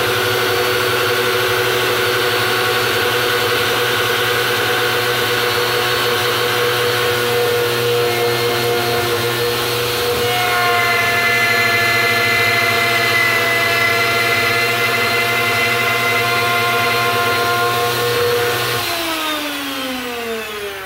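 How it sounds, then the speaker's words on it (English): A handheld router fitted with a 3/8 inch bit cuts a truss rod channel in a guitar neck, a loud, steady high-pitched whine held for about twenty seconds that drops in pitch and winds down at the end. "So I've swapped from a 1/4 inch router bit to a 3/8"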